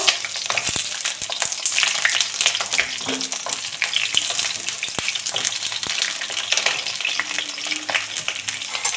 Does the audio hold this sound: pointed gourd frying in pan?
yes